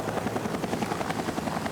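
A large heavy-lift helicopter hovering, its rotor throbbing in a loud, dense, rapid beat over a continuous broadband engine roar, close and unbroken.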